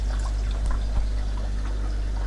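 Water flows back into an aquarium fish tank from a fry breeding rack's constant supply, a steady close trickle and splash over a low hum.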